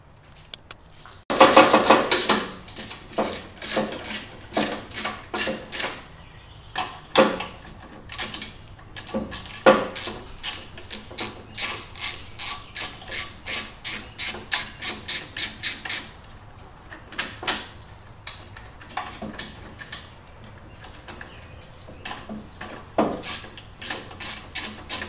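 A ratchet backs out 10 mm bolts holding the dash of a Simplicity Coronet rear engine rider mower: close, crisp clicking in quick runs of strokes, pausing between bolts and resuming, with no talk.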